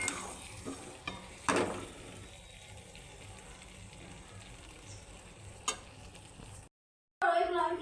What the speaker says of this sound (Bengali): আলু আমার কষানো কমপ্লিট এবার আমি জল দিয়ে দেবো